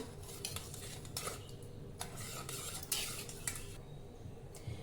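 A spoon stirs rice with salt and ghee in a pot, quiet clinks and scraping against the metal with a soft background hiss, close and faint.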